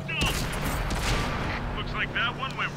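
Tank cannon and gunfire in a tank video game fire in a dense burst of booming shots and crackling impacts, loud and close, with a voice talking over them.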